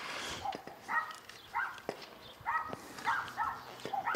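Small toy-sized dogs bark in short, sharp, high-pitched yaps, several in quick bursts at close to moderate distance, with light footsteps or clatter in the background.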